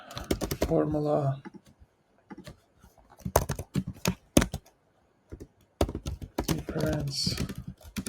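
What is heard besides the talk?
typing on a computer keyboard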